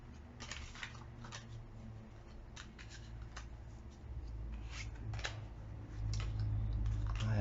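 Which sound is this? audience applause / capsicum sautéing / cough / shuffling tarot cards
shuffling tarot cards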